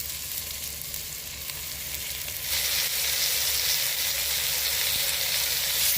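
Chopped country chicken pieces fry in a pan with a steady, close sizzle that grows louder and brighter partway through, continuous with no talking.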